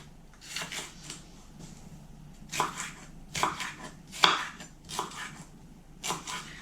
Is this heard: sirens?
no